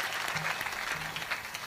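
A gathered audience at a Navratri devotional kirtan claps together in a dense, even burst of applause that continues through the short stretch at moderate loudness without any speech.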